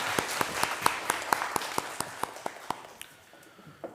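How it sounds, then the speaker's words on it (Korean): A church congregation at a Sunday service claps together in an even, quick beat of distinct claps for a few seconds before it fades out. "하나님께 영광의 박수를 올려드립니다."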